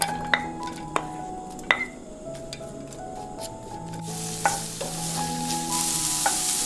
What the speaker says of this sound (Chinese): 接着在平底锅中加入适量的橄榄油，爆香大蒜、小米辣和洋葱丝